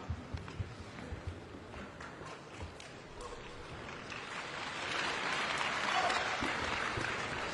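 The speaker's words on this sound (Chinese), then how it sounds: "谢谢各位朋友热情的掌声" An audience at a live Chinese group crosstalk (xiangsheng) performance applauds warmly, the clapping building and swelling toward the end, with some crowd murmur mixed in.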